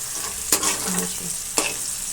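Spice masala for rajma roasts in oil in a pan, a loud, close, continuous sizzle broken by two sharp scraping strokes of a spoon stirring the mixture.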